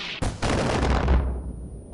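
Far Cry 4 mortar fire: a sudden loud blast followed by a sustained, rumbling roar of detonation that fades slowly over two seconds, with no talk.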